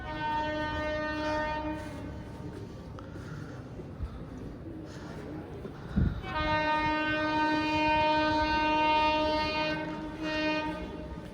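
A train sounds its horn at Subedarganj railway station, a long sustained harmonic blast that cuts out briefly mid-way and resumes, loud and close over the rumble of the rail cars.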